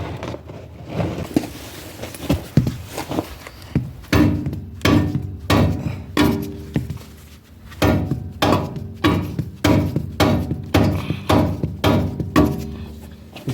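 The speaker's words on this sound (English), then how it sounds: "let me grab my hammer and we'll smack that out of there" Repeated metal-on-wood hammer blows against a car's tie rod, loud and close, first scattered then settling into a steady rapid rhythm of strikes with brief pauses.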